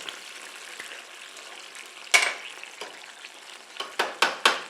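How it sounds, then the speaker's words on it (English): Kalamata olives dropped into tomato sauce simmering over lowered heat, with a soft steady bubbling broken by a few sharp clinks and plops near the end, no talking. "Okay, now I can really lower this heat for the simmer. Let's pop in our Kalamata olive."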